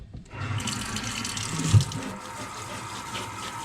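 Warm water pours steadily into coconut coir growing medium for grass, a continuous close running-water rush with one brief dull knock midway and no talking.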